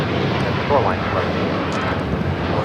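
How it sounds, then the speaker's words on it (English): Turkish Airlines Flight 180, a Boeing 787-9 Dreamliner, taking off from LAX for Istanbul, a loud sustained jet engine roar close by, with a voice speaking briefly over it. "Turkish Airlines Flight 180 taking off to Istanbul on a 787-9 Dreamliner."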